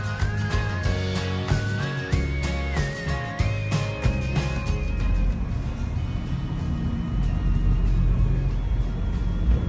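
A diesel skoolie school bus idles and creeps in reverse, a steady low engine rumble running throughout with a whining tone rising in steps, no talking over it.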